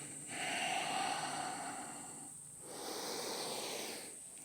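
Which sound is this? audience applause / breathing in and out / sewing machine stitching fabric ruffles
breathing in and out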